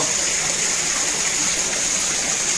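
Water gushing steadily into a farm well in a village field at Kherdi village, a continuous loud broadband rush that holds constant throughout with no voices.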